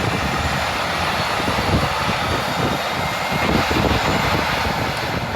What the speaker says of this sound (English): I set the chrono on and go to start engine number 1.